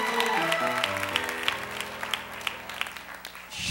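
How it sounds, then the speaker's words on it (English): Church congregation applauding for an evangelist, a dense wash of many hands clapping with scattered sharper claps on top, while sustained organ or keyboard tones shift underneath. "Let's give Evangelist Mackey another great big hand clap."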